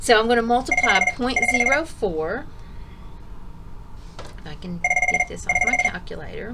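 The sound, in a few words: mobile phone ringing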